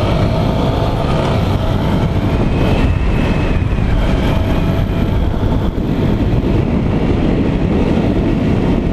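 A Honda Bros 160 motorcycle is ridden on the road, its engine drone and heavy wind rumble loud and steady throughout, with no talking.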